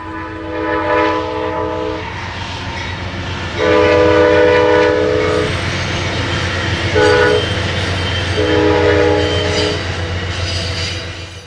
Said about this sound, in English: Racing through Moore Park, the train passes through some of the last undeveloped farmland in Southern California